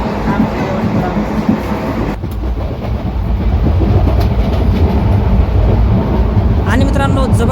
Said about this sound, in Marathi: जबरदस्त स्पीडमध्ये आपली ट्रेन जी आहे ती लोहगड रेल्वे स्टेशन स्किप करत आहे सध्या